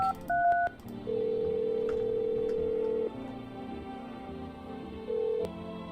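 Telephone keypad dialing tones in a video game: a few short paired beeps, then a long steady tone, a brief pause, another steady tone and a final short beep, clear and alone with no talk.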